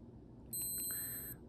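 A Casio G-Shock Mudman GW9010 digital watch gives a single short, high electronic beep as its button is pressed to pause the stopwatch, close and clear against a quiet room.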